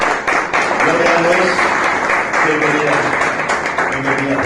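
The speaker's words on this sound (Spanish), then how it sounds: "Démosle un aplauso, por favor, a Auristela." A church congregation applauds together, a dense, steady burst of clapping that fills the room for several seconds, with voices mixed into it.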